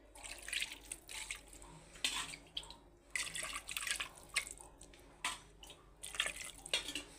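Water is poured and splashes into a pan of stuffed brinjal curry, with soft irregular trickling and dripping bursts, faint and close, in a quiet kitchen.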